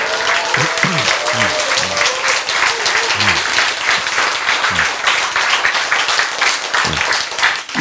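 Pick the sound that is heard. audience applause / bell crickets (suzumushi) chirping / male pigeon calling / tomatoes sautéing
audience applause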